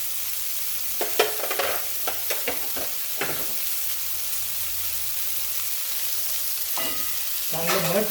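A spoon scrapes and stirs soybean curry with coconut powder in a pan, several distinct clinks and scrapes over a quiet sizzle, then a pause before more stirring.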